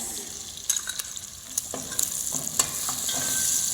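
Chopped onions sautéing in a pan for mee poha, a soft steady sizzle with scattered clinks and scrapes of stirring, close and moderately loud, no voices.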